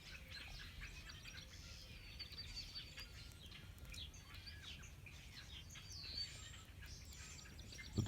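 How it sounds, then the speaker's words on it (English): Birds singing outdoors during a snowfall, many light chirps and twitters overlapping at moderate distance over a soft steady background hush. "But the birds are still singing."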